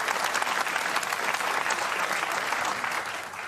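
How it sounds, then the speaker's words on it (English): A crowd breaks into steady applause, dense clapping holding at an even level and easing slightly at the end. "Clap, though, clap."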